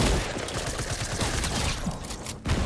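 Gunfire in the video game Fortnite comes as a dense, continuous fusillade of rapid shots, loud and unbroken across the whole stretch with a brief dip near the end.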